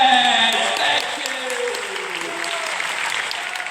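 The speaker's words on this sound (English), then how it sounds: "Let's give him a big round of applause" Theatre festival audience applauds after a performance of Shakespeare's Coriolanus, a full, steady burst of clapping that eases slightly, with voices faintly audible beneath it.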